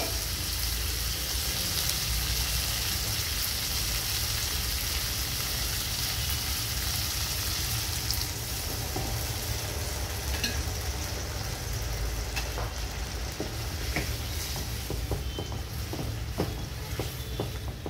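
Soaked dal boiling in a pot for mutton dalcha: a steady bubbling, sizzling hiss that runs the whole time, with a few faint clinks of utensils near the end.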